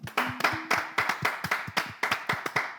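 A crowd claps and applauds in a steady burst of sharp, overlapping hand claps at close range, with a brief low tone underneath early on and no talking.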